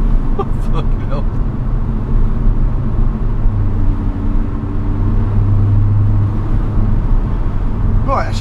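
Audi RS3 launching hard from a standstill and accelerating with traction control off in sport and dynamic mode, a loud continuous engine roar and rumble that climbs steadily through the revs, close and dominant throughout.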